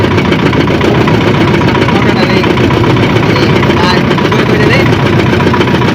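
A boat engine runs loud and close, a constant droning rumble with a steady vibrating texture and no pauses.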